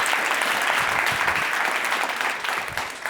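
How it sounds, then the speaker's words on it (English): An audience at a sales seminar bursts into brisk applause, loud at first and then thinning out over about three seconds. "So can we get Craig Ballantyne a round of applause?"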